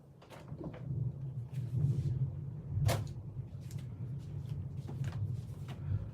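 A house door is opened to let a dog in, producing a few soft knocks, clicks and brief creaks over a quiet low hum, with one sharper thump near the middle.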